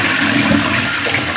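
Hotel bathroom toilet flushing at the ITC Grand Chola, a loud, close rush of water that stays steady throughout the short moment with no talking.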